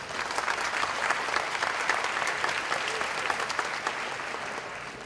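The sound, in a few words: round of applause for a speaker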